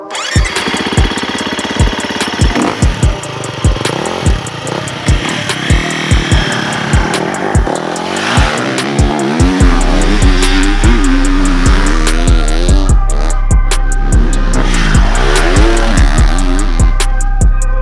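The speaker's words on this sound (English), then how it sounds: "This time we are testing a GasGas 366 project bike." A GasGas 366 big-bore motocross bike starts with a series of sharp kicks and pops, then its engine catches and revs loud and close with a steady rising buzz and rhythmic firing.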